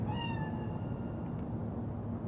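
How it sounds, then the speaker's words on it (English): A single cat meows in the video game Cyberpunk 2077, a short rising-falling cry near the start that fades over a dense low rumbling background, with no talking. "It's just a cat."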